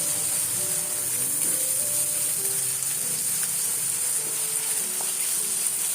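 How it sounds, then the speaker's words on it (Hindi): Minced meat (keema) fries with spices and black pepper in a pan, a steady crackling sizzle with scattered small pops and faint utensil scrapes, close and even throughout, no voices. "यहाँ पे कीमे को मैं मसालों के साथ बहुत अच्छे से भून लूंगी।"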